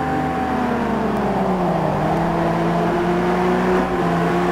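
A Ferrari 250 GT race car in a racing video game accelerates steadily, its engine note rising as a loud continuous whine that holds throughout with no talk over it.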